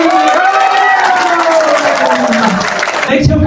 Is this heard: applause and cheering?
yes